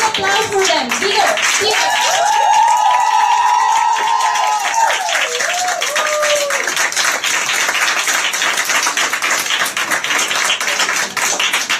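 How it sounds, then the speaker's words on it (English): An event audience at EVShow 2 breaks into loud, sustained applause and clapping, while a sung, tuneful voice rises over the crowd early on before the clapping carries on alone. "Big applause for them."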